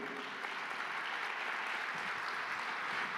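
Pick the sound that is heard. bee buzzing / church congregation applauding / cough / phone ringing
church congregation applauding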